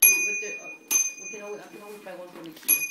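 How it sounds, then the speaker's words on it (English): Bright bell rings out twice, sharp single dings with a lingering tone, between quiet voices talking nearby. "I'm glad that bell's not too annoying."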